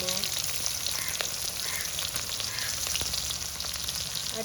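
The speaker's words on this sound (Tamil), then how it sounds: "எண்ணெய் நல்லா கொதிச்சுட்டு தானே இப்போ வெங்காயத்தை போடுவோம்" Onions drop into hot boiling oil and fry with a close, steady crackling sizzle and scattered pops, with no talking.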